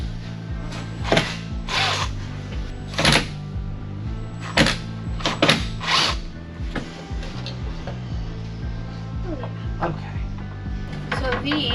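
A power drill drives screws into fittings for a 12V van power system, coming in short whirring, ratcheting bursts over a steady background hum, close and fairly loud.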